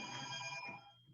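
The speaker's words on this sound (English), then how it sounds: "someone else needs to turn off their speakers because we're hearing a phone ringing." A telephone rings through a video-call participant's speakers, one short bright electronic ring burst that is faint and distant, fading out after about half a second.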